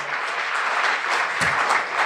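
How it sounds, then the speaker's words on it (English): Steady applause from the audience at a Cleveland marketing summit greets Bill Russell of CrossFit Cleveland as he comes up, continuous dense clapping throughout with no break. "Let's give him a round of applause."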